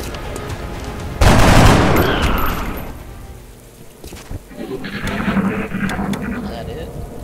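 Gunfire in the video game X-COM: Enemy Unknown opens with a loud burst of shots and booms. Rumbling echoes and further scattered firing follow over several seconds.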